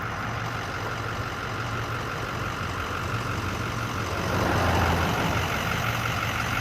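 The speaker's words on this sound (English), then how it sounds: "There's the bus cooling off" Bus engine running and idling while cooling off after a five-mile uphill climb, a steady low diesel rumble with a brief swell in loudness near the end.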